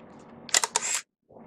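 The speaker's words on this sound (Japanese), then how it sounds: "シャッターを押す。" A Canon EOS Kiss Panorama film SLR fires its shutter with a quick mechanical clack, followed by a brief whirring film-advance motor, loud and close, then silence.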